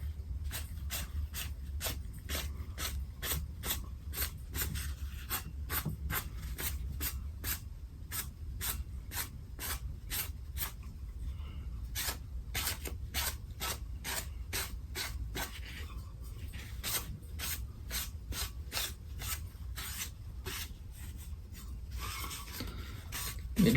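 A paper towel rubbing ink onto a tumbler, a steady run of quick, regular scrubbing strokes, close and soft, continuing without pause and with no talk.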